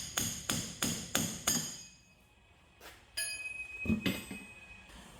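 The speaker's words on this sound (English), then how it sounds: "normally I wouldn't use a pickle fork because it tears up boots" A pickle fork is driven with a hammer into the front suspension of a 2007 Ford Focus: five sharp metallic strikes in a quick, even rhythm, a pause, then a few more ringing blows, close and fairly loud.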